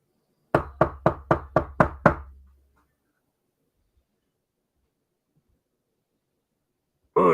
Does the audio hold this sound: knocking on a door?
yes